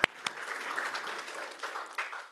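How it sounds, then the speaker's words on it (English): A room of workshop participants gives one more round of clapping at the close of final presentations, a sharp opening clap then a dense, even wash of hands that holds steady for about two seconds. "one more clap for us"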